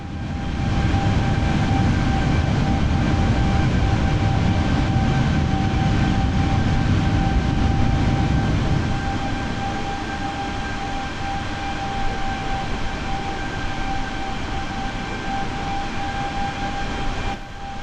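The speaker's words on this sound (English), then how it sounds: "let's have a listen to the engine sounds." Airbus A32NX jet engines in Microsoft Flight Simulator, a steady broadband roar with a low rumble and a few sustained whining tones, the low end dropping away about halfway through.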